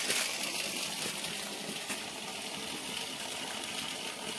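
The Bahubali waterfall near Chaibasa, Jharkhand, drops from a great height and sends out a loud, steady roar of rushing water that stays constant throughout, with no voices.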